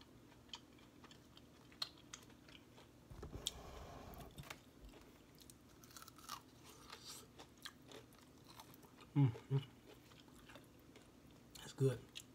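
Crunchy homemade fried chicken is chewed close up in quiet surroundings, with faint crunches and two louder bites near the end, plus soft intermittent speech.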